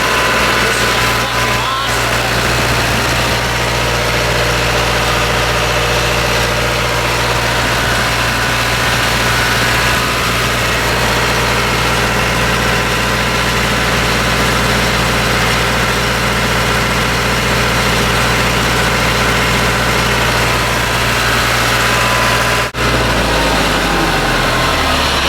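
An old Perkins diesel engine idles loudly and steadily nearby, a constant low throbbing drone that winds down as it shuts off near the end.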